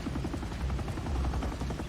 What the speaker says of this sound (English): Another helicopter.